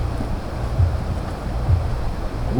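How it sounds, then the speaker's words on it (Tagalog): Strong, gusting wind rushing steadily outdoors around a hut during rain, a dense constant roar with swelling surges, no voices. "Yung may kalakasan din po ang hangin."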